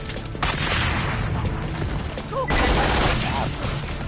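Rapid submachine-gun fire bursts loudly in the shooter game Borderlands: The Pre-Sequel, in two sustained volleys separated by a short lull, with game effects and some voice mixed in.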